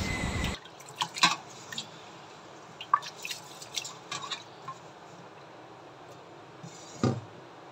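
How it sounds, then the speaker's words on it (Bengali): Rice being rinsed by hand in a bowl of water for cooking, heard as scattered wet drips, squishes and small splashes in short bursts over a quiet background. "চালটা ধুয়ে নিচ্ছি তাই"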